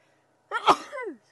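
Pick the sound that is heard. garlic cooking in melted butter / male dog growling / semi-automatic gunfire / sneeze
sneeze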